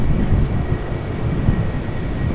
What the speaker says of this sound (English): So we've got an EasyJet on approach here.